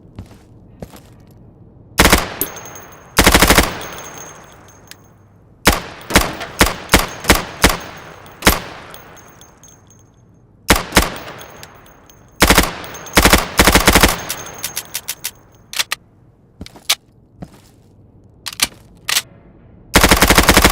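Rifles fire in the video game Insurgency, shooting at targets through plywood: loud, close bursts of rapid automatic fire and single cracks, spaced irregularly across the clip with brief quiet gaps between volleys.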